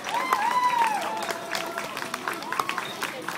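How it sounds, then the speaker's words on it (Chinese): A crowd claps for a women's hair dance performance from Lanyu at a community event, brief applause mixed with cheering and overlapping voices. "大家拍手"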